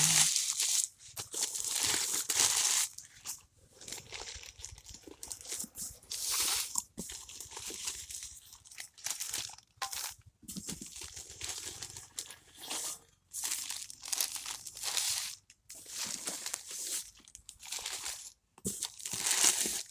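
Crinkling and tearing of newspaper as a package of imported seeds from Indonesia is unwrapped, a steady run of close rustles and crunches with short pauses, heard alone.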